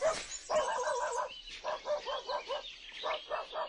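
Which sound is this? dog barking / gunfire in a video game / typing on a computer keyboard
dog barking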